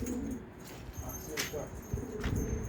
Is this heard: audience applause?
no